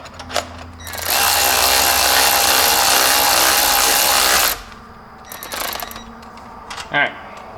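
Close-up, a power tool whirs steadily for about three seconds while snugging cylinder head bolts on a Jeep Wrangler TJ engine, followed by quieter clicks and mechanical handling.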